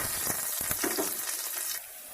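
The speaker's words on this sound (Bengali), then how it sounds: "প্রথমে তেলের মধ্যে দিয়ে দিচ্ছি কিছু কাঁচামরিচ এবং সর্ষে দানা" Green chillies and mustard seeds dropped into hot oil in a kadai, a crackling sizzle with a few sharp pops and stirring scrapes, close up, easing off toward the end.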